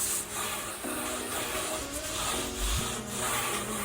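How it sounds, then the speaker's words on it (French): Sponge rubbed in circular motions over fresh lime plaster gives a close, continuous wet scrubbing with rhythmic swells as each circle passes, no talking. "Éponger en mouvement circulaire, ce qui revient à dire, en termes techniques,"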